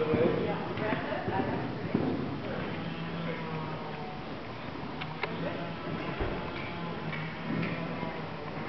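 A horse canters in an arena, its hoofbeats sounding as a steady rhythmic clip-clop beneath a rider's instructions and background noise.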